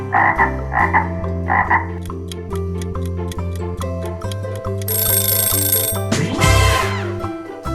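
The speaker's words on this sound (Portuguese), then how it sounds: "É isso mesmo, um sapo." A few loud frog croaks at the start, followed by a ticking musical backdrop with chimes and bell-like tones.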